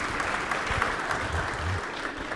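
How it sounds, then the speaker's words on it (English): An audience at a community discussion event on rural matters claps together, a steady even wash of applause with faint voices underneath. "Let's give them a round of applause for all that great thinking there"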